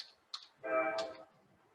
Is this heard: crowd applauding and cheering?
no